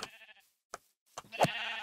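Sheep bleating in the video game Relaxicraft, a couple of short isolated bleats followed by a longer, louder bleat near the end, clear against quiet gaps.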